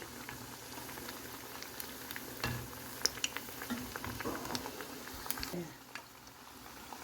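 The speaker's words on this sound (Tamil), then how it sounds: "நான் வாழைக்காய் பஜ்ஜி போடுறேன்" Raw plantain bajji fry in hot oil, a steady close bubbling sizzle with faint crackles and pops. Occasional quiet talk runs under the frying.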